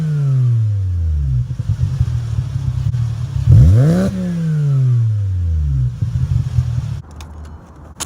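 A Volkswagen Jetta with its muffler deleted revs up and down loudly close by, its raspy exhaust sweeping in pitch, with a sharp popping backfire crackle in the middle and a few more pops toward the end.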